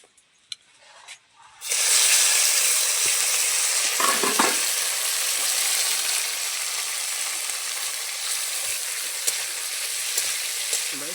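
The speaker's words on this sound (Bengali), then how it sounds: "কড়াইতে সরিষার তেল দিয়ে আমি কাঁকড়াগুলো ভেজে নেব" Salt-and-turmeric-coated chiti crabs dropped into hot mustard oil in a wok erupt into a loud, sustained sizzle after a quiet start, with occasional stirring knocks.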